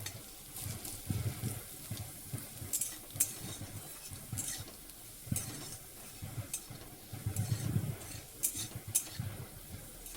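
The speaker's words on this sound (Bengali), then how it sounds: "ততক্ষণ পর্যন্ত আমি একটু রসুনটাকে ভেজে নেব।" Chopped garlic frying in a pan with a Bengali water spinach (kalmi shak) recipe, soft sizzling under repeated stirring and scraping of a utensil against the metal pan, close and moderately quiet, with no talking.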